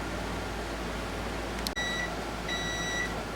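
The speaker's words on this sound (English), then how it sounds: "Okay, our timer's going off." A kitchen timer beeps in two short bursts of high tones over a steady background hum from a home kitchen during salsa canning.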